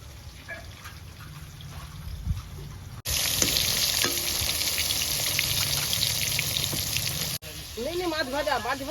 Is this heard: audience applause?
no